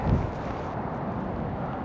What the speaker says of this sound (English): The wind is strong, those clouds are going to be moving fast.